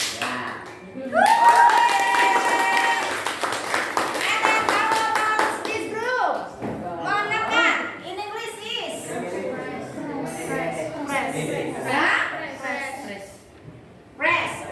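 A classroom of students claps hands together in a lively burst, sharp overlapping claps mixed with excited children's voices and a teacher talking, the noise rising and falling with chatter throughout.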